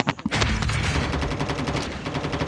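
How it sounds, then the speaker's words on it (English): Rapid burst of rifle gunfire in a battle royale video game, a sharp opening crack followed by a dense rattling string of shots, loud and close with no talk. "somebody killed me with a sniper"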